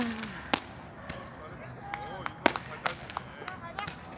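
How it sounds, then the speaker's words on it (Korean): Small fireworks burst at a beach at night with sharp, scattered pops and crackles, about a dozen short bangs at uneven intervals, some near and some fainter, over quiet background with light crowd murmur. "작은 폭죽이 터져도 예쁘기만 하네"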